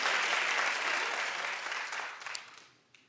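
A studio audience bursts into applause, loud and dense at first, then thinning out and fading over about three seconds until only a few scattered claps remain.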